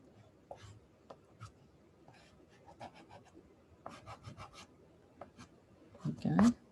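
Soft pastel rubbed and scratched onto paper in short, irregular strokes, close and quiet, with a louder scrubbing burst at the end.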